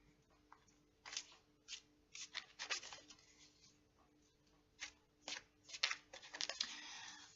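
A pre-shuffled tarot deck is shuffled by hand in a quiet room, giving short bursts of crisp card riffling and papery slaps. The bursts come irregularly, close to the mic, with soft pauses between them and no voice.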